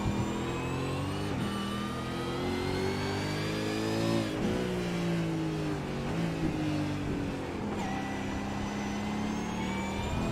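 A V8 touring race car engine short shifts through a corner, a loud near snarling drone whose pitch climbs, drops at each quick upshift, and climbs again, with no talk.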